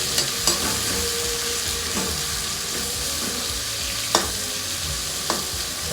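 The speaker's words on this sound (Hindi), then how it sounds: "ठीक है, ऑनियन डाल दिया हमने।" Chopped onion frying in a hot pan, a steady close sizzle broken by a few sharp scrapes and knocks of the stirring spoon, with no voices.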